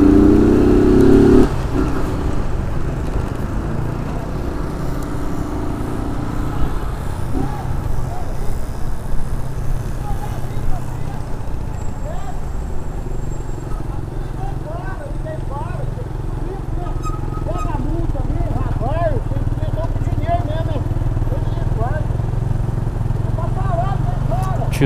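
A motorcycle engine revs and idles nearby at a general strike street protest, a steady low rumble with rising rev sweeps, while people talk over it.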